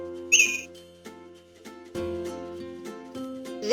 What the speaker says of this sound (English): This bird flies.